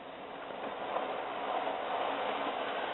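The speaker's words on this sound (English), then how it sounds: "here's a good scale length freight train being pulled by the Hornby" A Hornby 0-4-0 model locomotive pulls a long freight train around tight curves, making a steady, moderately loud whirring rumble of motor and rolling wagons throughout, with no voices.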